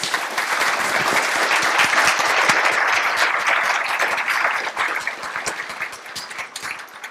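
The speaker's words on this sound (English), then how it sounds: "If you could give them a round of applause, please." An audience gives a panel on climate a sustained round of applause after the discussion, loud dense clapping that holds steady and then thins and tapers off toward the end.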